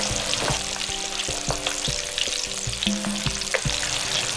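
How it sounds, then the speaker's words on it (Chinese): Chicken wings deep-frying over medium heat in a generous pot of oil, giving a steady, close, dense sizzle with crackling pops throughout and no talking. "放鸡翅的时候，我们轻轻的送进去。"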